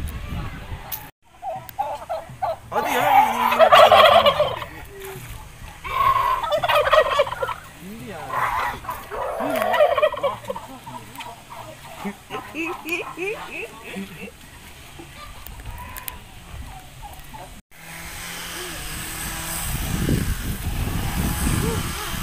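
Turkeys gobble outdoors on a sunny day, a few loud bursts near the start and fainter calls after, with people talking over them.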